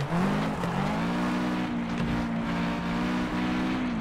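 A race car in FlatOut 2 boosts on nitrous, its engine holding a loud, steady high drone with slight pitch shifts and tire noise, close and continuous.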